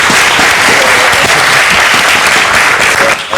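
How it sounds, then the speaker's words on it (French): Sustained audience applause fills the whole stretch at a French café-style show, a dense, loud wash of clapping with no voices over it, easing slightly at the very end. "On va applaudir."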